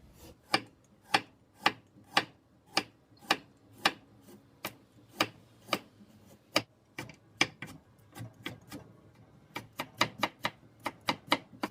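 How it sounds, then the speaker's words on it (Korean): Knife chopping carrots into thin julienne strips on a cutting board, a steady series of sharp, close taps with short pauses, speeding into a quicker run near the end, no talking. "당근 먼저 채 썰어 볼게요"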